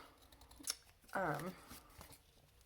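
Scissors trim the edge of a journal card, a short snipping burst close by, with faint rustles and taps of paper around it.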